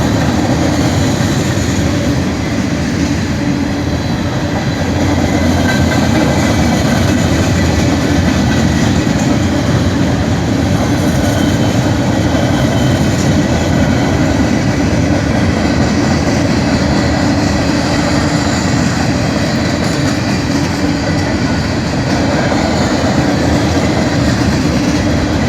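A long freight train rolls steadily past a street crossing at 4th Street in Chesterton, Indiana, its loud continuous rumble and wheel clatter holding close and unbroken throughout, with no talking.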